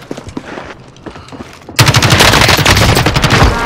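Loud, rapid automatic gunfire in a shooter video game, a few scattered shots followed by a dense, continuous burst up close.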